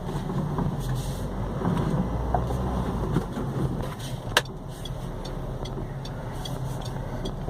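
A Peugeot 307 drives along a street, its steady low road and engine rumble continuous throughout, with a single sharp knock or clunk standing out briefly midway.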